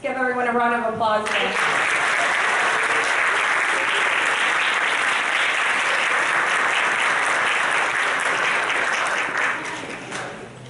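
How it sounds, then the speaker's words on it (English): Long, full applause from a graduation ceremony crowd for all the graduates, a dense sustained wash of clapping that starts right after a speaking voice and holds steady for about ten seconds before tapering off. "Let's give everyone a round of applause."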